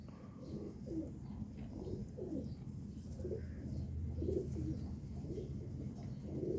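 Pigeons kept by a Jammu fancier coo in a low, continuous run of soft repeated calls, fairly close and steady, with no talk over them.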